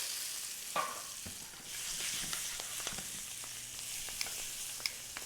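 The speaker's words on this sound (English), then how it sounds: "I'm going to add my onions." Chunky onions dropped into a smoking-hot pan, frying with a steady broadband sizzle and scattered stirring clicks and pops, close and quiet, heard alone.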